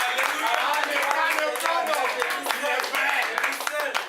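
A church congregation claps continuously in praise of the Lord, under dense overlapping voices and cheering.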